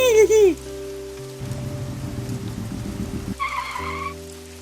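Rain falls steadily in an animated film scene, a soft constant patter running throughout, briefly joined by a burst of crackling splashes in the middle and tonal music or effects at the start and end.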